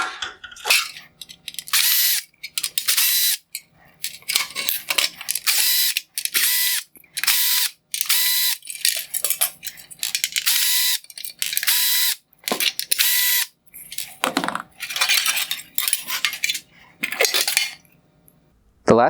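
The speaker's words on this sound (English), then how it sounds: "The LED light strip is held together using a series of Phillips head screws. I will go ahead and disassemble this now." Phillips head screws being backed out of the LED light strip in a 2016-2018 Lexus RX350 LED headlight, a run of close, bright metallic clicking and ratcheting bursts separated by brief pauses, with no talk.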